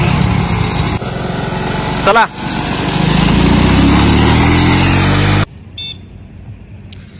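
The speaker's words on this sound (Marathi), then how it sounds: "ह्या गाडीला तर किक मारून चालू करायला लागते." A homemade vehicle fitted with a Passion two-wheeler engine is kick-started and runs loudly and close by, rattling and rising in revs, then cuts off abruptly, with someone speaking briefly.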